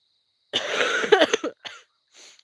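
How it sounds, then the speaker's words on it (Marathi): A close, loud burst of harsh coughs in quick succession, then a brief pause and one softer short cough, with silence around them. "खोकला यायलाय"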